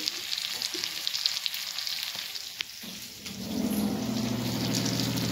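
Fish frying in a pan sizzles steadily up close, with a rain-like crackle and occasional pops; the hiss briefly dips, then swells again, and no one speaks.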